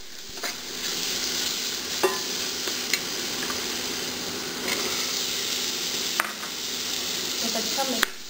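Boiled kidney beans stirred into hot oil for rajma curry, giving a steady close sizzle with scattered spoon-and-pan clinks throughout.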